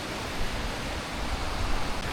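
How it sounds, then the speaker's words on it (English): A small waterfall near a cave pours in a constant, even rush of falling water, close by and unbroken, with no voices. "a lovely little waterfall that we've got going on today"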